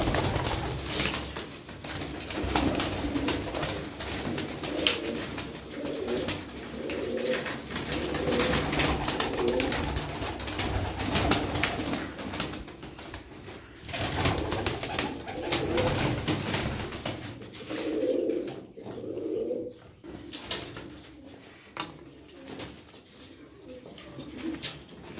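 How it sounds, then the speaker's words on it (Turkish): Çorum Çıplağı tumbler pigeons coo in repeated low, throaty phrases close by, with occasional faint flutters and background noise, and no talk during the clip. "Bakın kuş güzelleri."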